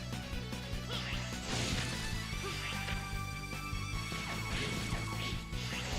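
Rocks crash and smash repeatedly as walls collapse in the Mega Man X5 video game, a dense, loud, continuous barrage of impacts and rumbling layered with game music.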